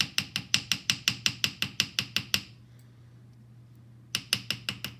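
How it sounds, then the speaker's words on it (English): A ball peen hammer strikes copper sheet shaping a leaf, with rapid, evenly spaced metallic taps close up, a pause with low hum, then another short burst of quick blows. "a ball peen stretches metal all around"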